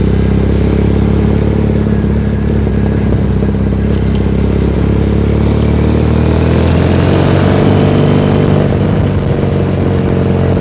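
Custom Triumph Bonneville motorcycle riding through Tokyo streets, a loud continuous engine drone heard close up from the rider's seat, the pitch shifting and rising as the bike accelerates, with no talking.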